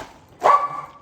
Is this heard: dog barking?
yes